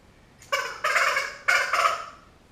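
A squirrel game call shaken by hand to mimic a squirrel's chatter call, two bursts of rapid raspy chattering, each made of two quick rattling pulses, close and clear with no talking.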